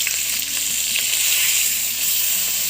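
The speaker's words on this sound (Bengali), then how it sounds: "তেলটা ভালোভাবে গরম হয়ে গেছে, মাছের পিসগুলোকে একে করে দিয়ে দেব।" Pieces of katla fish frying in hot mustard oil make a loud, continuous bright sizzle with faint crackles and a few soft pops, close up and steady throughout.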